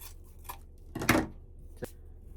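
Quiet snips of scissors cutting a fall wreath ribbon on a craft table. A few soft clicks lead to one louder cut, then a faint final snip, with no talk.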